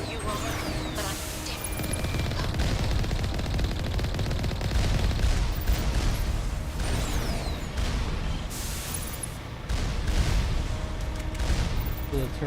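Turrets fire continuously in Mass Effect amid a dense, loud battle soundscape of rumbling booms and rapid gunfire, with occasional whooshing tones over the top.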